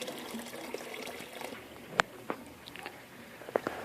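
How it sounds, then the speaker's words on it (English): Water just beginning to trickle out of a supply pipe in an aquaponics system, soft faint dribbling and dripping with a few small splashes over a low background hiss. "we have some water just barely starting to come out"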